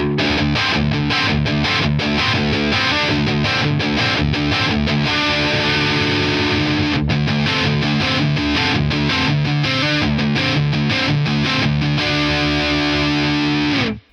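A loud Harley Benton SC-DLX electric guitar with heavy distortion gain plays continuously for several seconds, dense and saturated, stopping abruptly at the end.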